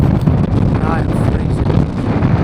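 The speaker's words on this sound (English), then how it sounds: "The wind's insane." Strong wind on a snowy, freezing Cairngorms hilltop roars steadily across the microphone, a loud constant buffeting rush with no pause throughout.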